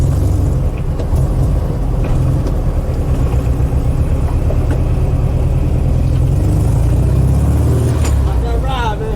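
VW Type 3 car driving on a street, its engine rumbling steadily and loud throughout with slight revving near the end, while someone talks over it.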